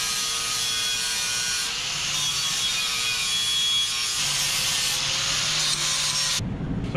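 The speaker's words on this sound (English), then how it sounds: "So I ground my bump stops and my spring plates until I was happy with the axle angle." A grinder runs steadily against the steel bump stops and spring plates of a VW rail buggy, giving a loud continuous high whine with slight shifts in pitch as it bears down, close by, then stops abruptly near the end.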